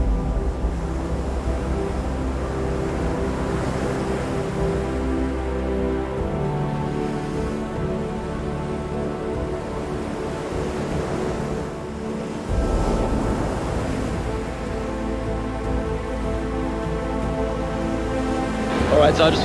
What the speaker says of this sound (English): Crashing waves.